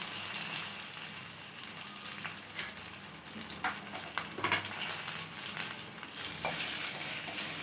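Asafoetida, a dried chilli and curry leaves tempering in hot oil for a chutney, giving a steady, close sizzle and crackle throughout, with bursts of spattering midway.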